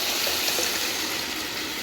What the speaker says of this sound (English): So I just added more water to it.